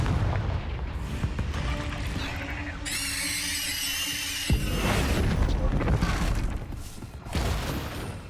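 A Confringo fire spell cast in Hogwarts Legacy bursts with a loud crackling blast amid layered game battle noise, a sharp transient cutting the sustained roar midway, with brief voice shouts over it.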